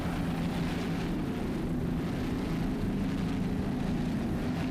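Twin 1,300-horsepower Sterling inboard engines roar aboard the 46-foot Skater Bacardi Silver in an offshore powerboat race, a steady, dense, unbroken drone with a deep rumble running throughout.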